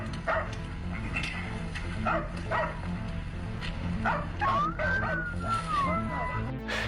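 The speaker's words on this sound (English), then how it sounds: "their dogs started barking aggressively at something near the wooded area" Hunting dogs in a wooded area bark in repeated sharp bursts over a low steady rumble, with whimpering yips and a rising whine near the end, heard at moderate distance.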